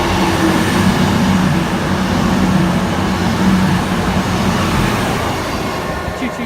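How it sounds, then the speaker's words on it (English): A CrossCountry Voyager train bound for Newcastle passes at Burton upon Trent, a loud, steady rumble of wheels and engine that fills the whole stretch, heard from under a bridge in the rain. "The train about to pass now is a cross-country Voyager service to Newcastle."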